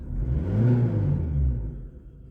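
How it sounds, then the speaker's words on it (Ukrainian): A 2013 VAZ 2110 car engine revs as the gas pedal is pressed, a close, loud, low rumble swelling and then easing off. "я даю на газ"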